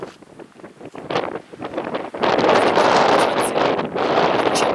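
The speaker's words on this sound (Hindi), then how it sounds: "यहाँ तेज़ हवाएं आपको दिन भर चलती मिलेंगी।" Strong wind blows across an open, very dry high-altitude area, gusting and roaring against the microphone, building from moderate buffeting to a loud sustained rush.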